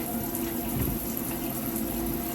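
Tap water runs steadily into a kitchen sink while dinner dishes are washed, a continuous close splashing rush with no pauses.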